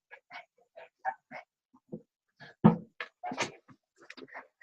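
A small excited pet dog named Yoda lets out a scattered run of short, close yips and whimpers, some brief and high, others fuller, with a louder burst midway.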